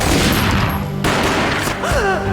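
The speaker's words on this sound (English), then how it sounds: "A gunshot boomed and she fell down in slow motion" A gunshot booms in the Max Payne video game, one heavy blast amid dense, loud, echoing action, with a short falling cry near the end.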